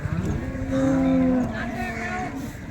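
Cows at the Loni cattle market give a drawn-out moo over a busy background of crowd and market noise.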